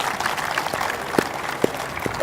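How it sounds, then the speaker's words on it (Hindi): An audience at an Independence Day event with CRPF jawans applauds to welcome a DIG onto the stage, a moderate wash of clapping with a few sharper individual claps standing out. "जोरदार तालियों के साथ स्वागत कीजिए"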